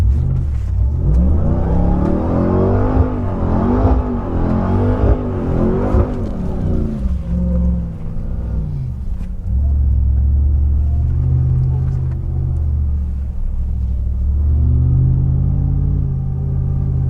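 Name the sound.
Dakar Rally race vehicle engine revving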